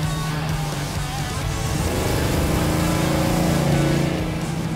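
A V8-powered Corvair drag car drives along, its engine a steady low, rumbling drone heard loud and close throughout, with no talking.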